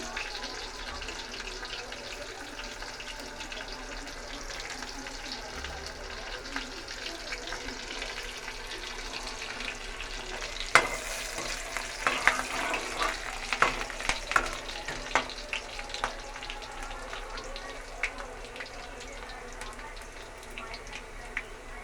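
Garlic, ginger and green chillies frying in a pan in a home kitchen, a low steady sizzle that turns busier with clinking and scraping stirs in the middle, with a voice talking faintly at times.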